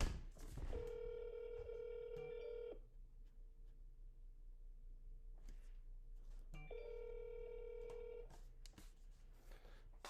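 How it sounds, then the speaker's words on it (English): Telephone call being placed: a tone-dialing sequence followed by repeated steady ringback tones, with quiet gaps between rings and no talk. "I'm calling my landlord Yashod Bhardwaj"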